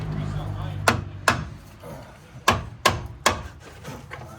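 A small hammer strikes a ball joint on a Chevrolet Silverado pickup, five or six sharp metallic whacks at uneven intervals, loud and close, with brief talk between blows.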